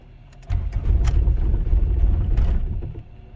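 A Honda Civic engine cranks and catches after a no-start condition, a low rumbling turnover beginning abruptly and churning steadily near the microphone before tapering off, with no talking.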